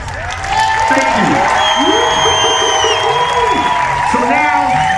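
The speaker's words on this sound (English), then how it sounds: "round of applause for you guys" A crowd at an autodrome speech event applauds and cheers, but loud whoops and shouted voices dominate over thin clapping.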